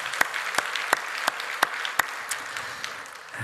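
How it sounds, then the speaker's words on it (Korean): A church audience at a Tuesday training meeting claps in a slow, steady unison rhythm, each clap sharp and evenly spaced, moderately close, with a dense wash of applause beneath. "한번 박수 크게 다시 한번 합니다"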